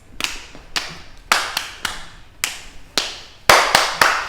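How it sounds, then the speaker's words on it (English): Rhythmic clapping and patting from a pat and clap dance step at a Christmas dance practice, sharp claps and softer pats falling in a steady repeating pattern, close and loud with no talking. "The first step is the pat and clap"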